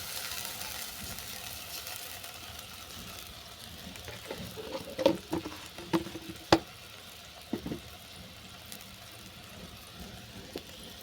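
A small amount of water and sugar cooks in a wok, giving a low, continuous bubbling sizzle punctuated by several close scrapes and knocks of a stirring utensil midway.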